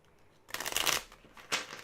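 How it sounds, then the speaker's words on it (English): A deck of cards is shuffled during a live tarot-style reading, producing a quick riffling flutter followed by a brief second burst, close and clear with no talking over it. "I'm going to shuffle this a bit."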